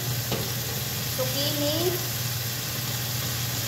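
Carrots and zucchini stir-frying in a wok, a steady close sizzle with stirring scrapes under a low hum.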